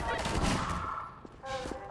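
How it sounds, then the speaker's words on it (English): An SMG fires in Half-Life 2 co-op (Synergy), with rapid bursts of video-game gunfire that trail off, then a fresh burst, and faint voices mixed in. "This one, I call it the SMG."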